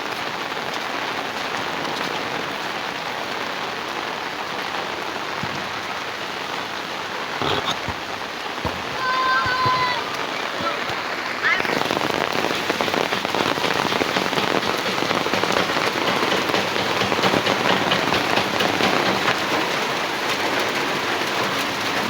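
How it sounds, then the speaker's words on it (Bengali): Heavy rain pours steadily on a village surface, a dense continuous hiss throughout, briefly thinning near the middle before returning even stronger for the rest. "প্রচণ্ড বৃষ্টি হইতেছে বন্ধুরা"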